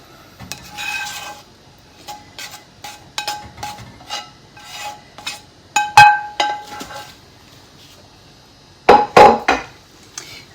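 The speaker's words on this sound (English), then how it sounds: "I'm going to go ahead and add in to the pasta all of my mushrooms and onions and red pepper" Mushrooms, onions and red pepper tumble into a pot of cooked, drained pasta for turkey tetrazzini. Scattered clinks, knocks and scrapes follow, then a louder clattering burst near the end.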